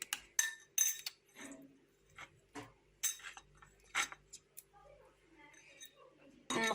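A metal spoon clinks against a bowl while ground turmeric is added to natural yogurt for a home cough remedy, giving light, scattered taps and clicks under a quiet spoken voice.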